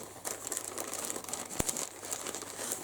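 A plastic-wrapped mail package holding yarn is opened: steady close crinkling and crumpling of plastic continues throughout, with one sharp tearing snap partway through.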